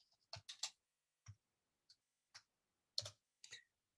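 Sharp, faint clicks of a computer mouse come in small clusters and single taps, spaced irregularly and close, in an otherwise silent room.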